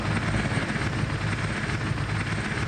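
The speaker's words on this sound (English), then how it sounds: "Donald Trump's personal helicopter descended onto the small airfield" Donald Trump's personal helicopter descends onto a small airfield, its rotor and engine giving a steady, loud, unbroken roar with no voices.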